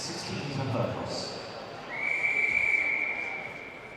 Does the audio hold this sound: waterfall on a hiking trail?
no